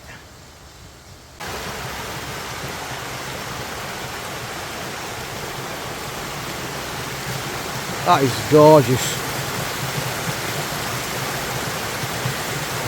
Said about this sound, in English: this waterfall I'm going to show you in a minute is absolutely stunning. You can possibly hear it.